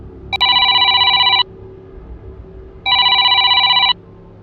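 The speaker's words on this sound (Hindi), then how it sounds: "फोन की आवाज ने उसकी नींद तोड़ दी।" A telephone bell rings loudly in two long electronic bursts, separated by a pause of about a second and a half, with no voices.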